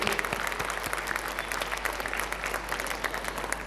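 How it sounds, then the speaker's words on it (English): Steady, dense applause from an audience at a school annual concert, a continuous roar of many hands clapping, loud and even throughout with no break. "Can I have a louder round of applause for our children?"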